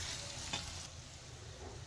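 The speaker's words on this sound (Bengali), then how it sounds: "মশলা ভালো করে ভেজে নেব একটু" Spices frying in a pan for an egg curry, a soft continuous sizzle with a brief stir scrape in the middle, faint and heard without any talk.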